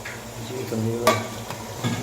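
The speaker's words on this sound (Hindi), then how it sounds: "तकरीबन हमने इसको 10 मिनट तक भूनना है चिकन को और मटन को" Mutton being stir-fried in a karahi: soft frying sizzle under sharp metallic clanks and scrapes of a spoon against the pan, with one bright knock about midway.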